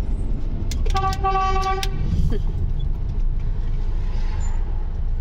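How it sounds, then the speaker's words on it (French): A car horn honks in a few short, loud toots at a red light, close by, over steady traffic rumble. "J'ai klaxonné quand même."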